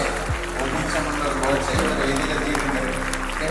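Audience applause greets a guest arriving at a family convocation gathering in a shopping mall: steady, dense clapping with crowd noise and voices mixed in and a low hum running underneath.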